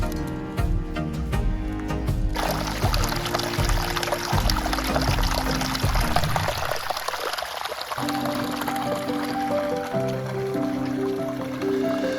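Steady pouring water runs for several seconds over chicken being washed outdoors, with shifting splashes and trickles as it fills and flows.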